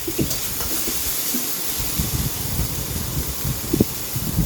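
A paste of ground onion, garlic and green chili sizzles loudly in hot oil in a pan, a steady close hiss with a few sharper crackles and spatters over it.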